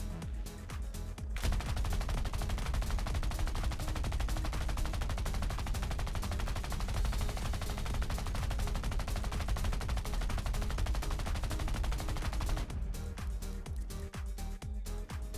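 Aircraft guns in the War Thunder combat game fire a long continuous rattling burst, lasting most of the stretch with short quieter gaps at the start and end, loud and close with no talk.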